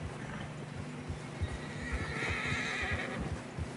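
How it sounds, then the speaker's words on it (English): A horse in Red Dead Redemption 2 plods along a narrow snowy mountain trail, with a steady rhythm of hoof clip-clops and a soft, faint whinny in the middle, quiet and alone. "Horses are getting tired."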